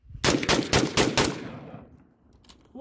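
A rapid burst of about five gunshots fired into sand and trash, loud and close, each crack blending into the next before a long reverberant tail fades into quiet.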